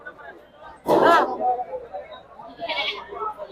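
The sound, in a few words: goats bleating at market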